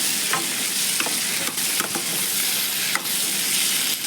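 Turkey berries sautéing in a pan for a Tamil vatha kuzhambu give off a steady, loud sizzle and fry hiss, with occasional scrapes and clinks of a stirring spoon and no voices.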